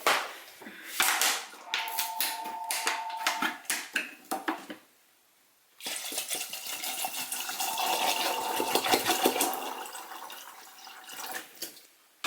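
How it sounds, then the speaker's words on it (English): Water runs into a pot of soaked chickpeas being filled for boiling, a near, splashy pouring stream with dripping bursts, a short pause midway, then steady filling again, with no talk. "now I'm just going to be basically filling them up. I'm boiling them so that I can make dinner"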